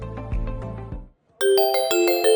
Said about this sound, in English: The audio ducks, the doorbell plays, and the audio returns when the doorbell's over.